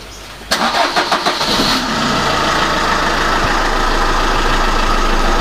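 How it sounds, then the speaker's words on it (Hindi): A car engine cranks and starts after power steering oil is added, a short burst of rhythmic starter chugs giving way to a loud, steady idle that continues to the end. "तो अभी मैं फिर से गाड़ी चालू करता हूँ"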